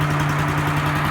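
A Little Wonder 13hp leaf blower engine running steadily after a semi-restoration, a loud close droning hum with a strong low tone and even rhythmic pulsing, with nobody talking.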